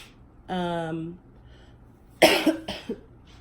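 After a short hummed sound, a person gives a couple of sharp, close coughs in quick succession.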